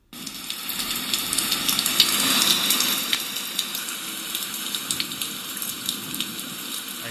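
A Housbay sound machine plays a steady rain track, an even hiss of falling drops with a soft patter, constant and fairly loud, with no voices.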